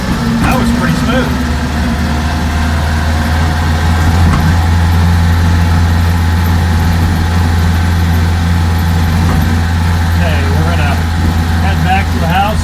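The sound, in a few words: 1948 Crosley CoBra wagon engine driving off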